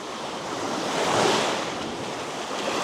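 Surf washes onto a tropical Australian beach in a steady, broad hiss and roar that swells slightly and then eases, with no voices present.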